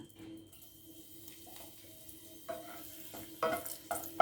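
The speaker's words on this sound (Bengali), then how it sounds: "এই একই তেলে আমি দিয়ে দেবো দুটো শুকনো লঙ্কা" Two dried red chilies drop into the same hot oil just used for frying eggs, giving a quiet, low sizzle that gradually builds and is punctuated by a few soft clinks near the end.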